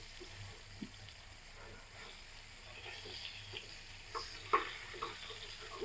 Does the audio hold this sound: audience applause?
no